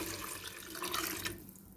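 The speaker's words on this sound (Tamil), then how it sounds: "நான் எடுத்த கப்பால் 3 கப் அளவு தண்ணி ஆட் பண்ணுறேன்." Water is poured from a measuring cup into soaked basmati rice for green hariyali chicken biryani, a steady splashing gush that runs for about a second and a half before easing into quieter trickling.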